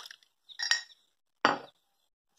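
A ceramic cup clinks and taps against a hard surface while homemade herbal tea is poured, three short separate bright knocks spaced apart with silence between them, close and clear.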